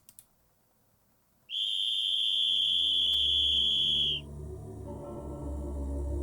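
A steady, shrill emergency alarm whistle in a video game sounds loud and unbroken for a few seconds, then cuts off and leaves a low rumbling background.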